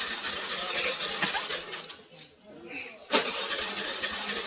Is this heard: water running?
no